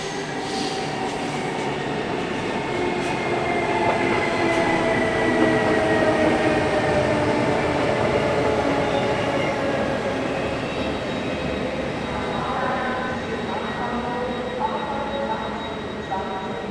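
Swiss class 560 electric multiple unit arriving on a Turgi to Zofingen service near Olten, a steady loud rolling rumble with rising and falling tonal motor whine and rail noise throughout, no talk.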